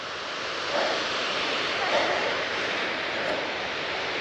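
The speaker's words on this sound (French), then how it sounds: "c'est le ruisseau qui dégringole." A mountain stream tumbling steeply down like a cascade on a hiking trail in the Ariège mountains, heard as a steady, dense rushing roar of water that stays even and close throughout.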